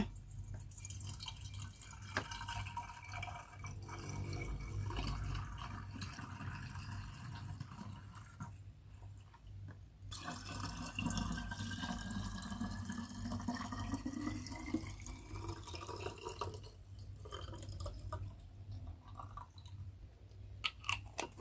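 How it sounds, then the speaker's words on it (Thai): Sugarcane wine poured from one bottle into another, a soft continuous trickle and gurgle of liquid with occasional drips, quiet and close, no voices. "ยกขวดเทเปลี่ยนไปเลย ยก เบาๆนะ"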